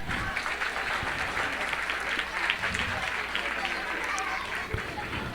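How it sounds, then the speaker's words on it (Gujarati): An audience at an Indian Republic Day celebration in Parsippany, New Jersey claps steadily after a children's performance, with a dense, even patter lasting about five seconds and low murmuring underneath. "ગમ્યું કે ના ગમ્યું તાળી પાડજો."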